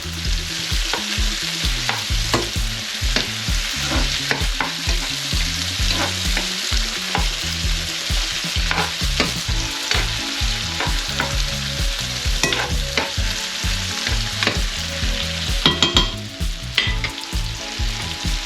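Fried potatoes with cumin stirred in a hot pan, giving a continuous close sizzle with repeated scraping and clattering from the stirring utensil, no talking.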